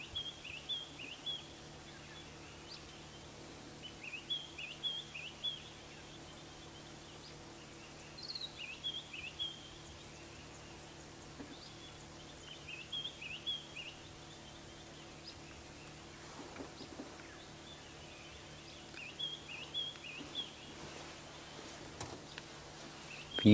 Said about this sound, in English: White-browed scrub robin.